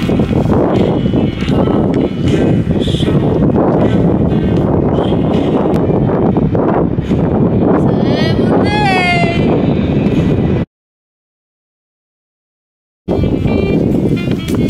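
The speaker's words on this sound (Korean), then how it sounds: "바람이 세긴 하네." Strong wind buffets an outdoor gathering, a steady loud broadband roar with gusting across the whole clip, mixed with people talking, briefly dropping to silence before resuming.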